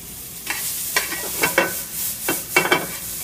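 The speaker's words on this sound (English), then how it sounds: "I'm going to start to saute my onions." Onions and carrots sautéing in a pan, a soft sizzle broken by several sharp scraping and clinking stir strokes at irregular intervals, close and clear, no voices over it.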